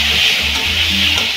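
Green chili peppers frying in oil in a pan while tangra fish curry with raw tomato is cooked: a loud, close, continuous sizzle with a bright hissing texture and faint stirring underneath.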